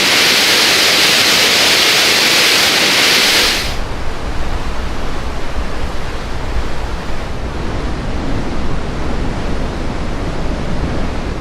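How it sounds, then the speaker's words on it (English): Dense, steady rushing water noise with a deep rumbling low end, continuous throughout; a brighter hiss cuts out after a few seconds, leaving the heavy roar. "capture the thundering lows of the rushing water"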